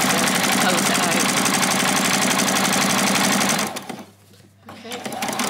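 A sewing machine runs fast and loud, stitching a doll's dress in a steady mechanical whir close by, then slows to a stop and briefly restarts toward the end.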